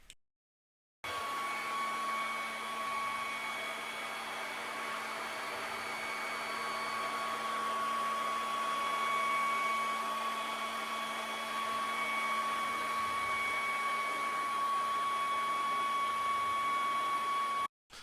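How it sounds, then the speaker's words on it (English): A shop vac rigged to blow air out runs as a continuous, steady whining roar with a sustained high tone, starting abruptly after a moment of silence and cutting off at the end. "That's just a shop vac in there hooked up to the other side so it blows air out."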